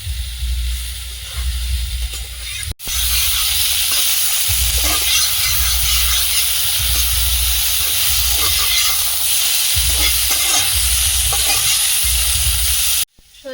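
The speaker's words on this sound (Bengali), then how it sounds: "আবার একবার ফোড়ন কাঁচা লঙ্কা দিয়ে হচ্ছে" Green chillies hit hot oil in a pan for tempering, giving a loud, continuous hiss and sizzle with occasional stirring scrapes, cut off abruptly near the end.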